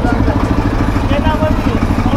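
A motorcycle engine rumbles steadily with exhaust putter on a new dirt track, a continuous loud mid-pitched drone close by, with voices talking over it.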